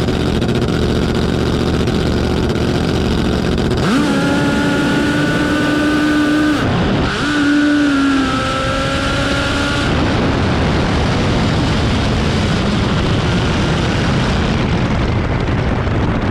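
A top fuel drag racing motorcycle roars at the Australian Top Fuel Championships, Round 1. The engine makes a very loud, sustained howl whose pitch climbs and wavers, then it settles into a broad, harsh roar that fills the whole stretch.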